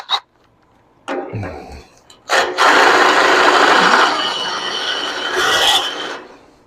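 A 9/16 inch hole is drilled after 1/8 inch pilot and 3/8 inch passes, giving a short start, a pause, then several seconds of steady grinding and rasping cut that swells again near the end.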